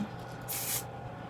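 A single short burst of Cantu Style Stay Frizz-Free Finisher aerosol spray, a close, bright hiss lasting under half a second, with quiet room sound before and after.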